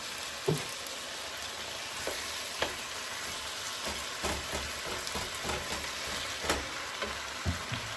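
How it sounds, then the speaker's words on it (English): Onions for French onion soup fry in a pan with a steady, soft sizzle while a utensil breaks them up and stirs them, giving occasional light scrapes and taps. "I'm just breaking up my onions so they can all get evenly distributed"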